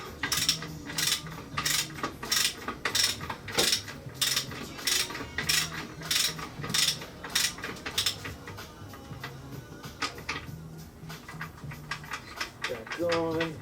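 A ratchet tool tightens the crank pulley nut on a Toyota Corolla 4AGE engine, giving a steady run of sharp metallic clicks in quick rhythm, close and fairly loud, then tapering into lighter mechanical ticking.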